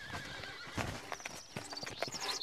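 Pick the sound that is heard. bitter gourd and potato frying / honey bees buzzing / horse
horse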